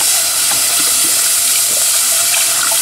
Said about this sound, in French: je vais verser du lait froid dessus